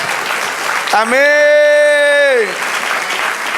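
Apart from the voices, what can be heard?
church congregation applause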